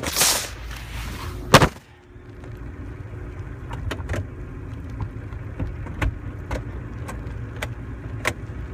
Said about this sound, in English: I'm gonna go ahead and put the top down real quick.